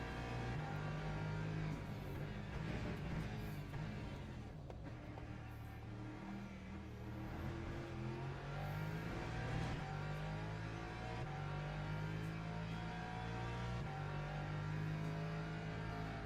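Racing game engines roar continuously as a BMW passes a Lamborghini, with several cars droning together, steady and loud and shifting in pitch as they rev and change gear.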